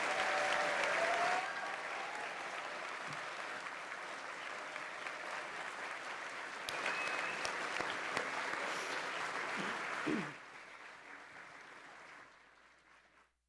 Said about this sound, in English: Now you can clap. The biggest round of applause.